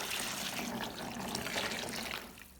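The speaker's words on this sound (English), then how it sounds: "pour in enough water to fully cover the chestnuts" Water pours steadily into a large bowl of chestnuts with salt, a continuous close splashing and trickling rush with no speech.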